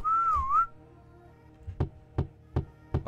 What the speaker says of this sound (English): are we not going to question who just whistled at us?